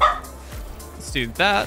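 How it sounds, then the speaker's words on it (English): A dog barks and yips in short bursts near the start and again toward the end, close by and fairly loud, with someone talking over part of it. "Sorry for my dog barking."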